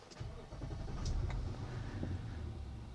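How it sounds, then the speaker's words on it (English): A 2012 Infiniti QX56 with a crank sensor fault cranks and fires up, the engine catching after a brief crank and settling into a steady idle, recorded close by with no talking. "Let's start the vehicle."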